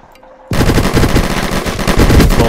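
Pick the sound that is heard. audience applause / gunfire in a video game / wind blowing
gunfire in a video game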